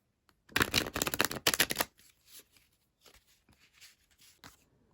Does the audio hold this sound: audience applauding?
no